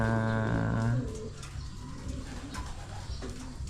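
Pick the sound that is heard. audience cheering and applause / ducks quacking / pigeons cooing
pigeons cooing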